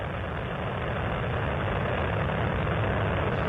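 The three liquid-fuel main engines of Space Shuttle Columbia roaring during launch, a steady, dense, loud rumble with no pauses.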